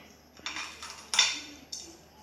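A sulcata tortoise eats a special meal of squid bone, its bites knocking and clinking against a plate in a few sharp taps, close and fairly quiet.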